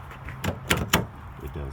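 The front door handle of a 1991–97 Toyota Previa is pulled and the door stays shut: three close, sharp clicks and clunks of the latch in quick succession, followed by a brief low voice.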